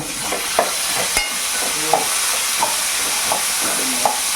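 Curry leaves sizzling in hot oil for dosa, a steady broadband frying hiss with a few small crackling pops scattered throughout and one sharp clink near the start.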